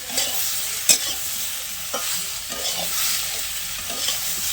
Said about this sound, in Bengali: একটু লাল লাল করে ভাজব, ভেজে তারপরে নামাবো।